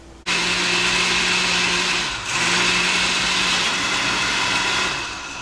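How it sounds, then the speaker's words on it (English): A blender whirs loudly, blending green spaghetti sauce ingredients, starting abruptly, dipping briefly in pitch midway, then running steadily again with no talk. "Just gonna toss everything in that blender."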